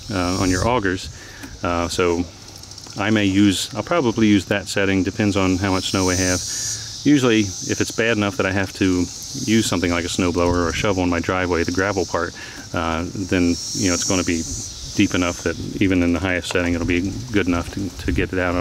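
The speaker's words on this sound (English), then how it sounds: "If you hear all that buzzing in the background, it's from these cicadas." Buzzing of 17-year periodical cicadas, a constant high droning hiss running steadily in the background beneath someone talking continuously close up.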